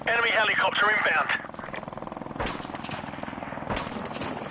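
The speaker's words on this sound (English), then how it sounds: "Enemy helicopter inbound." An enemy helicopter in the shooter game Modern Warfare Remastered makes a steady, fast rotor throb. A voice is heard at the start, and two sharp gunfire cracks cut through.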